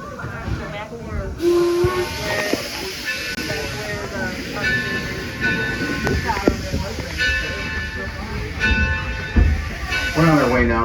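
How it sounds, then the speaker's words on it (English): A steam locomotive whistle, the Torch Lake engine at Greenfield Village, blows a sustained, steady tone over loud steam hiss. People talk faintly in the background. "Wait for the whistle from the engineer."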